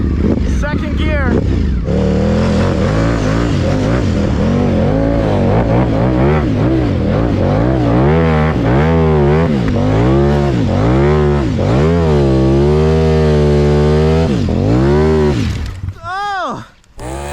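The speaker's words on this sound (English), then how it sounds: "I'm gonna take the Ducati and see if I can make it up this. Let's try this in second gear." A 2024 Ducati V4 snow bike engine pulls hard uphill in second gear, loud and close, its revs rising and falling in repeated surges before cutting off near the end.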